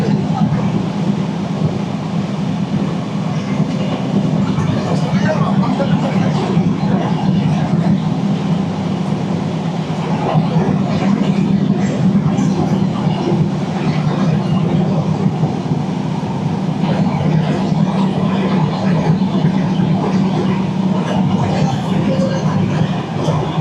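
The Sundarban Express rushes along at high speed on its run from Dhaka toward Faridpur, a loud, unbroken rolling roar from inside the carriage with wind noise and faint rail clatter, no voices heard.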